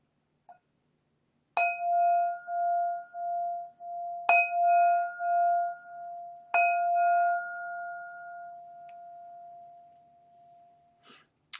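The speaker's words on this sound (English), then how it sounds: "Comes third bell." Three struck meditation bells ring out during a quiet mindfulness practice, each a clear metallic strike followed by a long, pulsing sustained tone; the third rings longest and fades slowly, with no talking over it.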